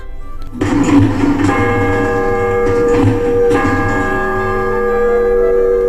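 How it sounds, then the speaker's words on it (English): A lighthouse fog bell is struck several times by a hand-wound mechanical striker, each clang ringing out and lingering in a resonant hum between strikes. "the keepers had to wind the original fog bell striker by hand"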